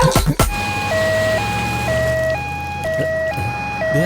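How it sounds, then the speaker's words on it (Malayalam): A loud two-tone ambulance siren alternates steadily between high and low pitches, close by, after a few sharp knocks at the start. "ആംബുലൻസ്."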